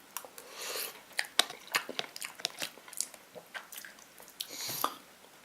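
Someone eats cheap pot noodles up close, with soft slurps, wet chewing and small crunchy bites coming in quick irregular bursts, quiet and without speech.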